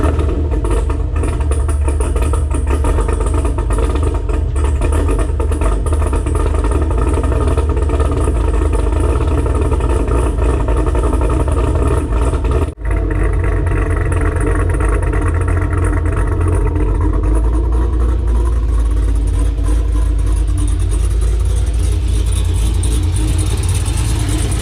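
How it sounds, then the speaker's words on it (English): Untuned cammed C5 Corvette with a BTR stage 3 cam doing a cold start, a loud, loping, choppy idle with uneven rhythm that holds close and steady, then settles as the car backs out. "So I'm gonna go ahead and do a cold start,"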